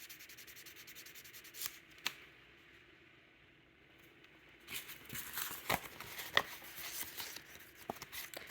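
A knife blade being hand sanded with 600 grit sandpaper: soft, close scratchy rubbing strokes in uneven bursts, quiet overall, with a brief lull in the middle before the strokes pick up again.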